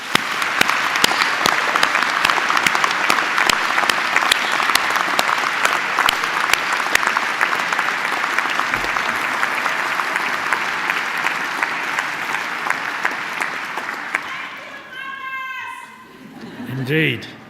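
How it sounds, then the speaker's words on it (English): A graduation audience gives a long, loud round of applause, a dense continuous clapping that holds for about fourteen seconds before fading, then a voice speaks over a quieter hall. "join me in giving your friends, family, and partners a round of applause"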